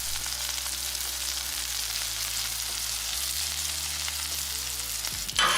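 Thin ground beef patties fry in a pan with a steady, dense sizzle that holds at an even level throughout, ending in a brief louder clatter near the close; no voices.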